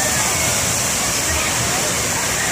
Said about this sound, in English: it's getting ready to dump water on the kids